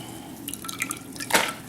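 Water drips and trickles from squeezed spinach held in a bag, a few soft splashes building to one brief louder gush near the end, heard close up in a quiet kitchen.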